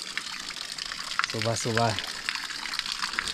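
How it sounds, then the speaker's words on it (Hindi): Water is drawn at a village stepwell, with a steady rushing, splashing flow throughout and someone speaking briefly over it. "यहाँ से हम पानी भर के ले जाएंगे"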